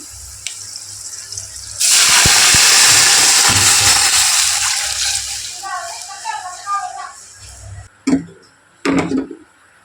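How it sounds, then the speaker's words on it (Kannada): Water hits a hot pan with a sudden loud hissing sizzle that slowly fades, followed by a couple of sharp metallic clanks. "ಇವಾಗ ನೋಡಿ ನೀರು ಹಾಕ್ಕೊಂಡು ಬಿಡ್ತೀನಿ"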